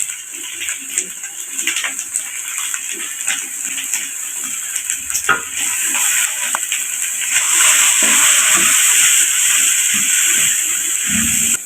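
Thinly sliced cabbage sizzles and hisses steadily in a hot pan, with occasional scrapes and stirring clatter, the frying growing louder partway through.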